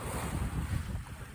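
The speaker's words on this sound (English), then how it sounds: "You can see the water go flying by." Water rushes steadily past the hull of a sailboat under way toward Traverse City, a continuous close wash mixed with wind buffeting the microphone, with no talking.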